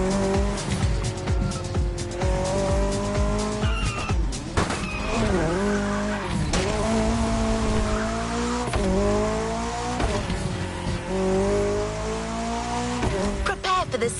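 A Ford Mustang Boss 429 muscle car driven in The Crew Motorfest racing game, its engine roaring and shifting pitch through gear changes, with tire squeals and skids across a continuous loud run.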